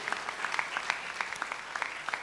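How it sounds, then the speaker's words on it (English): Audience applause at a quiz contest: a room full of people clapping steadily with dense, overlapping hand claps, moderately close and sustained throughout with no talk. "it is almost our duty as an audience to first clap for the remaining 24 teams who participated but could not make it through"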